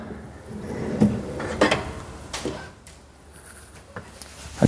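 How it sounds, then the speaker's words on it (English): A soft close larder unit being opened and closed, giving a few light knocks and sliding bumps of the frame and runners, fairly close and moderately loud with no talk. "So if you now open and close the unit a couple of times, the frame will find its own line with the top runner."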